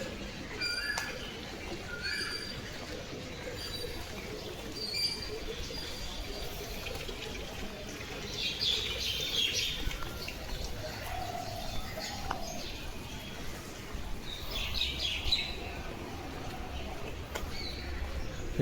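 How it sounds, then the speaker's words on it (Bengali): A koel, a cuckoo, calls during a morning walk, its cooing notes faint and distant among other birds over steady outdoor background noise. "কি সুন্দর কোকিল ডাকছে।"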